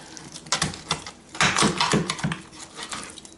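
A sharp knife cuts straight down through a whole chicken held on its end, producing a few close, crunchy snaps and thuds as it passes through bone and joint on a cutting board.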